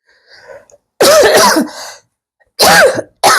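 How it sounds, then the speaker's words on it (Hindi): A woman with a cold coughs in two sharp bursts, close and loud, with a short quiet gap between them and faint sounds before the first. "सॉरी गाइज, मुझे खांसी है क्योंकि मुझे सर्दी भी है।"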